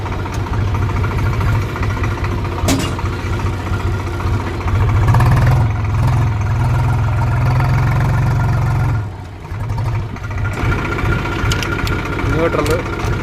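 A Swaraj 735 FE tractor engine runs steadily in first gear with a low, continuous rumble and transmission whine; it swells briefly, dips, then resumes, while a voice seems to talk over it.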